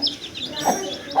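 A hen gives a few short, soft clucks over a busy background of household noise. The clucks are brief and come at irregular intervals.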